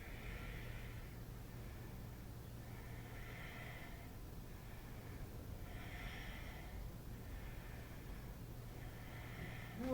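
Slow, steady breaths during a gentle yoga pose, with several soft inhale and exhale swells in a regular rhythm, close and quiet over a low constant hum.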